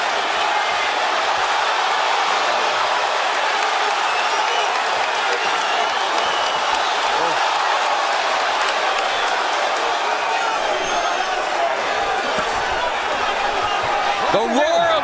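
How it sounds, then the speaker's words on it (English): A dense, loud crowd roar fills a live boxing arena of over 7,000 fans during Jermell Charlo versus Brian Castaño, holding steady throughout and swelling slightly at the very end. "The roar of the crowd"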